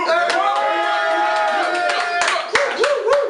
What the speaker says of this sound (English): If you think Matty Lloyd won, make some noise now.